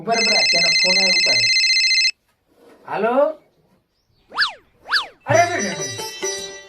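A telephone rings loudly and steadily for about two seconds, a bright electronic trill, followed by speech and a couple of short rising chirps, then more ringing and talk.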